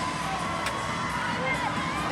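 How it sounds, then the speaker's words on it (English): A crowd cheers and shouts at a CrossFit team competition, a dense roar of voices spread across a large indoor arena, with a commentator's voice on top. "Big cheering sections up in the crowd for these squads"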